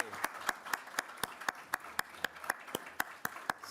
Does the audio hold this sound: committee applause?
yes